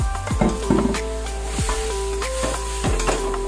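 Bitter gourd sizzles in a pan with onion, garlic and tomato, a steady close fry broken by several sharp stirring scrapes and clatters.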